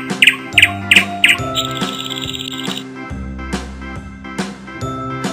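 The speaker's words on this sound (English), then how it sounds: "Nightingale begins with N." A nightingale sings over a musical backing in a children's animal alphabet game, opening with four quick bright chirps and followed by warbling notes.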